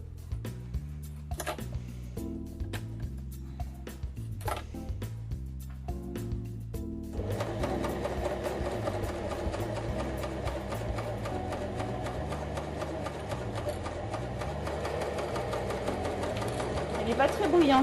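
A Janome CPX 2000 Cover Pro coverstitch machine stitching jersey fabric, starting with short separate bursts and then running steadily in a fairly quiet mechanical hum, with a voice talking over it.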